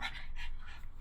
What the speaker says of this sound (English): I don't know if you can hear the dogs, but they're here with us in the RV right now.